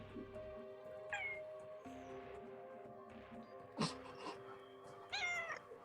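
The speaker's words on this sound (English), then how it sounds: "We let a cat on this ship." A cat meows several times aboard a ship, with distinct rising calls near the start, middle and end over a low steady hum, close and clear, no talking.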